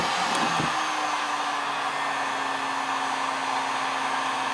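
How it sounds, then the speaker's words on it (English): A heat gun blows hot air over a smartphone decal wrap, a steady, loud, continuous whoosh with a faint tone running underneath, with no one speaking. "I'm going to do some more heating over here"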